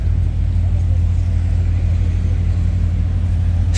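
A Bugatti Chiron supercar on a street in Cannes gives off a deep, steady engine rumble, close and constant, with no clear rise or fade of a pass-by.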